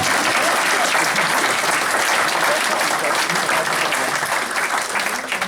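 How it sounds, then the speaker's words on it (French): An audience at an inauguration event in the Pays de Grasse applauds Didier with dense, sustained clapping from many hands, loud and close, fading slightly near the end. "On peut applaudir Didier sinon."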